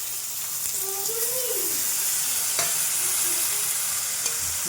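Ginger paste and spices—coriander, cumin and turmeric—fry for a goat meat curry, giving a steady close sizzle with a few scraping stirs across a pan, under a faint background voice.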